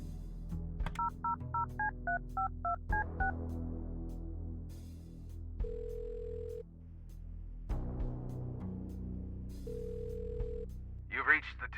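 A phone number is dialed in the detective adventure game Kathy Rain 2, with a quick run of about ten clear keypad beeps, followed by ringing tones, under soft background music.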